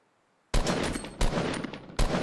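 Fortnite gunfire landing a headshot: three loud, evenly spaced shots, each cutting in sharply out of silence and followed by a rough, rumbling decay.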